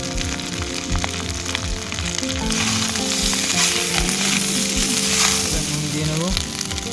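Green peas hit a hot pan for puti fish pulao, setting off a loud, steady sizzle and crackle of frying with occasional stirring clatter throughout.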